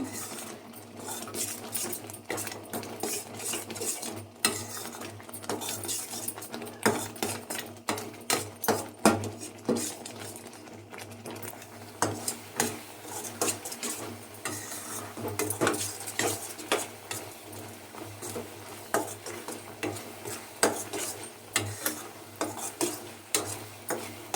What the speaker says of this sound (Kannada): ಕಾಯಿ ಹಾಕಿ ಕೈ ಬಿಡದೆ ಮಗ್ಸ್ಬೇಕು ಮೀಡಿಯಮ್ ಫ್ಲೇಮಲ್ಲೇ ಮಗ್ಸ್ಬೇಕು